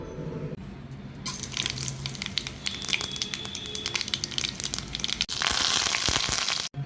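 A mixer grinder whirring as it grinds bottle gourd chutney, a loud steady rough grinding roar running for several seconds with a brief pause before a louder final burst, no talking over it.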